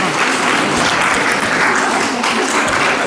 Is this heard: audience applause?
yes